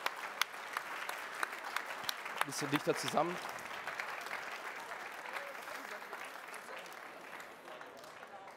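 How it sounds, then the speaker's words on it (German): Audience applause for award winners at an insect-protection prize ceremony at the Grüne Woche in Berlin, 2020: sustained crisp clapping at moderate distance, with someone speaking briefly over it. "allen Preisträgern bitte nochmal einen Applaus hier für diese tolle"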